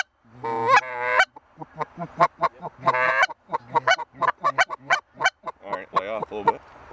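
Geese honk repeatedly in flight over a barley hayfield, a loud, close chorus of overlapping nasal calls in quick bursts across the whole stretch.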